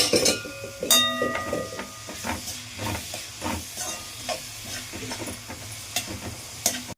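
Onions sizzle and fry in hot oil, with occasional stirring clinks of a spoon against the pan, steady and close.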